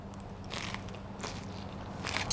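Crisp crunching bites into a crispy salad come in three short bursts, close and fairly quiet, with faint chewing between them and no talking.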